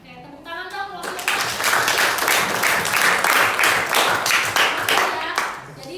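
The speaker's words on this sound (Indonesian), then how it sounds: "Oke, tepuk tangan dong kalau Silpa." Clapping from a classroom audience during a teaching-practice exam, starting after a brief voice and swelling into dense, steady applause for several seconds before tapering slightly, with some voices mixed in.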